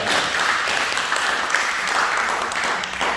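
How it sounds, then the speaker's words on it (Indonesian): Church congregation applauding at a Sunday service in Sydney, a steady dense wash of clapping filling the room throughout, fairly loud with no clear gaps. "Beri tepuk tangan dulu buat Tuhan kita."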